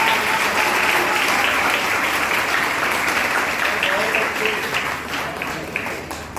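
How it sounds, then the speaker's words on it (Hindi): Sustained applause from the audience at a Hindi poetry recital, steady and dense clapping that fades slightly toward the end. "इधर से भी तालियां आई, लेकिन इन लड़कियों ने बहुत अच्छी तालियां बजाई"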